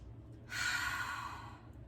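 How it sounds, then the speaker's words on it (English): One long, deep breath drawn in and released during a seated movement session, a soft airy rush lasting about a second, close and alone. "take a deep breath"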